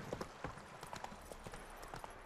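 Quick, rhythmic horse hoofbeats clop along at a brisk gallop in The Witcher 3: Wild Hunt, fairly close, with a soft background hush between the strikes.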